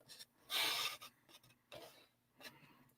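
A paper trimmer slices cardstock in short strokes between score lines: a few quiet, close scraping swipes, the first the longest, separated by brief pauses in a quiet room.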